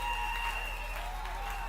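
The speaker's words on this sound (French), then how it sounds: "Applaudissez très fort." A church congregation applauds continuously while sustained musical tones ring over the clapping at moderate volume.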